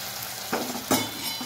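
Hot water poured into a pan of roasted masala sets off a steady hiss and sizzle, with two sharper splashing bursts over the continuous frying noise.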